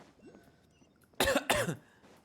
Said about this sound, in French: En espérant que ça calmera ma toux là